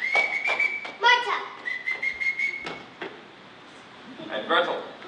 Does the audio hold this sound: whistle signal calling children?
yes